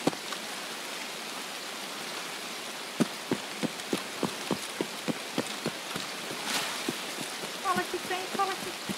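Rain falls steadily in the video game Escape from Tarkov, a dense hiss broken by a run of sharp individual drops or taps, with a brief louder swell and faint game sounds toward the end.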